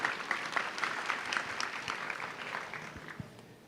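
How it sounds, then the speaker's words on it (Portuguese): Audience at a business summit applauding founders on stage, a dense even wash of clapping from a crowd, moderately distant, holding steady and tapering slightly toward the end, with faint voices underneath. "Salva de palmas, gente."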